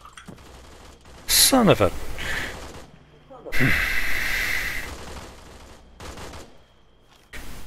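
Bursts of airsoft gunfire during an organised skirmish around a building, the sharp cracking shots loud and close, with people talking and exclaiming in between.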